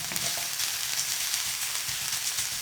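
Chopped garlic and onion sauté in a pan while chicken kare-kare with coconut milk is being made, giving a steady, close hiss of sizzling oil with small stirring clicks and no talk.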